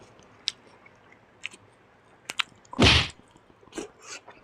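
Someone eating bacon-wrapped enoki mushrooms in spicy mala sauce close to the mic, with scattered soft mouth clicks and smacks and one louder wet crunch in the middle, and no talking.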